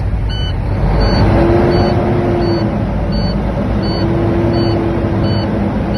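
A truck engine holds a steady 1200–1500 RPM to build air brake pressure toward governor cutout, a loud continuous drone up close with faint, regularly repeating high beeps.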